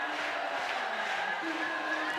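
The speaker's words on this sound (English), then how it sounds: "So the crowd cheering her on now." Crowd noise at a women's bouldering final in Meiringen, a steady wash of cheering and shouting from spectators, moderately loud and continuous throughout without a clear break.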